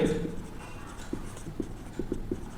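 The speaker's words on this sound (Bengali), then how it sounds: "তাহলে আমি এখানে উত্তর লিখে দিচ্ছি।" Pen or pencil writing an answer by hand on paper during a class 7 maths lesson, giving short scratchy strokes in a quiet room.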